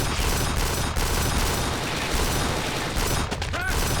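Gunfire from a weapon fired blind from cover in Kane and Lynch 2, a dense, continuous stream of shots with crackling impacts that holds steady for several seconds before a brief break near the end.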